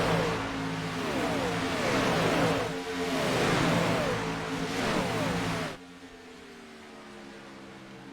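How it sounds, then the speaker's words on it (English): Race car engines roar loudly together in a sim racing game at Daytona International Speedway, a dense, continuous pack drone that swells in waves, then drops abruptly to a quieter single engine hum, with no talking. "You hear those motors roaring"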